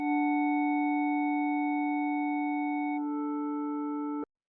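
Sustained synth chord of clean, steady tones with no reverb, shifting to a new chord midway and cutting off dry and abruptly.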